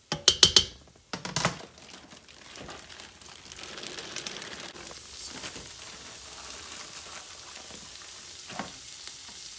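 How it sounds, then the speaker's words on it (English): Onions and carrots sautéing in an Instant Pot for chicken noodle soup, opening with a few loud clattering knocks, then a steady soft crackling sizzle that continues quietly to the end. "Hear the sizzling."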